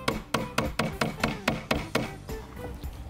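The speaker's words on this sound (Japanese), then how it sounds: "釘を打つ時に、左手を打ちつけないように気をつけて打ってくださいね" A hammer drives nails into wood during a planter-building woodworking class, with a steady series of sharp, evenly spaced strikes that soften slightly toward the end, moderately close against a faint background hum.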